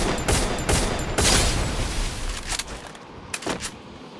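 Rapid bursts of gunfire from a shooting video game come in quick clusters, loud and sharp at first, then thinning out into a few separate shots.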